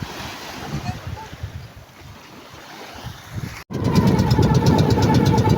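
A homemade service boat engine runs during a sea trial, first a softer rumble amid wind and water, then a louder, steady motor drone after a brief cut, with sea noise throughout and no talking.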